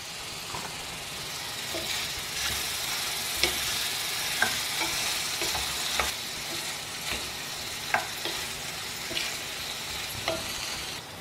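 Ridge gourd sautéing with salt in a pan, a steady broadband sizzle with scattered sharp ticks and pops from stirring, close and alone with no talk.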